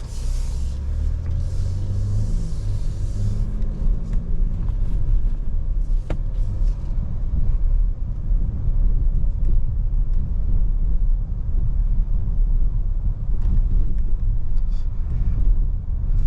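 A 2023 Buick Enclave Avenir three-row SUV is driven, with a steady low road rumble and engine drone heard from inside the cabin. A brief rise in engine sound comes near the start.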